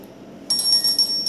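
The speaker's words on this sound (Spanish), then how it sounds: "sonó la alarma." An alarm goes off in the horror video game Granny as a bright, rapid electronic ringing that starts partway through and persists over a low game background, with no talking.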